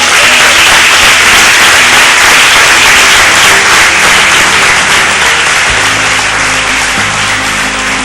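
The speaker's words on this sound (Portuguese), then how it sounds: "Você pode aplaudir ao Senhor." A church congregation applauds at a communion service, a dense, loud wash of clapping that holds steady for the whole stretch, with a low music hum underneath.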